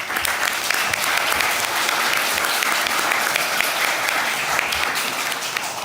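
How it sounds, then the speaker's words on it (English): Loud, sustained applause from a conference audience for a panel on the energy transition, a thick wash of many hands clapping at a steady level throughout. "Can we please give them a round of applause?"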